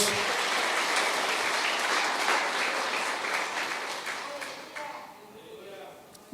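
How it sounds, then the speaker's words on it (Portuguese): Church congregation applauding during an evening service, dense sustained clapping from a crowd that gradually thins and tapers off, with a voice emerging near the end. "Você pode aplaudir a Jesus nessa noite?"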